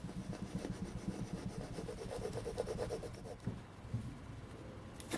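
Harsh scraping and rasping against a hard disk platter from a Compaq Presario CQ61 laptop, repeated in quick strokes for several seconds, fairly close, with a brief pause near the end.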